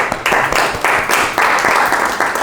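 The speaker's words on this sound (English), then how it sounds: "Can you clap for her?" A small crowd claps steadily, the applause coming in rolling waves of overlapping hand claps, fairly close and loud throughout.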